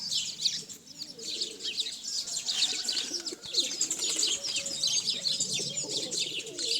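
Pigeons cooing and chirping continuously, a busy flock close by with occasional soft wing flutters.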